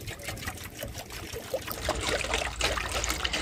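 Water is poured from a 1-litre bottle into a silver pot, giving a continuous gurgling trickle that grows fuller and louder as the pour goes on, close by.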